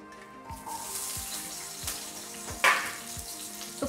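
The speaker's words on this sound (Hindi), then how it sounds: "तो प्याज को हमें थोड़ा सा भून लेना है।" Two large onions fry in oil, giving a steady soft sizzle with light stirring and scraping, and one brief louder hiss near the end.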